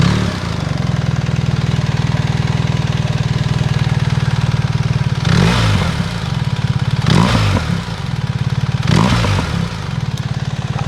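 A BMW R1300 GS motorcycle engine with an aftermarket exhaust idles steadily, then revs up and back down three times, each drop followed by a popping exhaust burble. Loud and close.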